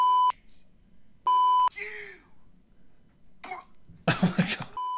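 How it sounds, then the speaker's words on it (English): Steady electronic censor beeps, about a third of a second each, cut across a news-style talk segment, with muffled voices and a cough-like burst in between. "We're going to need more beeping on this one, Alex"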